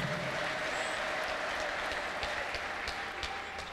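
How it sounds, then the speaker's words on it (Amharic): A church congregation bursts into sustained applause at a prophet's service, dense clapping with bright high trills of ululation over it, loud and continuous throughout with no speech. "ለጌታ እልልታ ጭብጨባ።"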